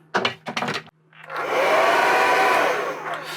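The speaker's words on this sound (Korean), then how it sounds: "그 다음, 헤어드라이기" Hair dryer running off a camper van's power inverter, starting after a few spoken words and settling into a loud, steady whooshing blow close by.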